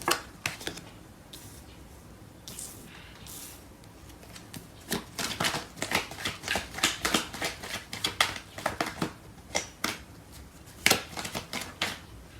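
Tarot cards being shuffled by hand: a dense run of crisp riffling flutters and soft slaps, starting sparse and building into rapid bursts, close and fairly quiet with no talking.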